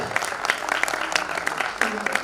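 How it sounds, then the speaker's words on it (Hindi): Moderate applause from a crowd at a Hindi poetry recital, a steady patter of clapping with a voice faintly heard beneath it. "तो सारे एक बार जोरदार तालियां बजाओ यार"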